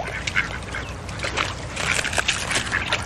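Ducks quack in a loose cluster of repeated calls, close and fairly loud, over a steady outdoor background with no talk.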